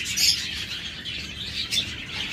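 Many caged birds kept for sale, including lovebirds, parrots, mynas and budgerigars, chirp and tweet together in a steady busy chorus, with a few sharper calls standing out and no voices.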